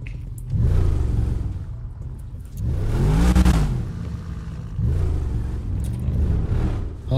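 A Bugatti Chiron Pur Sport engine in FiveM revs in three strong surges: deep, rising roars that swell and fall back to a rumbling idle between pulls, loud and close with no talk over them.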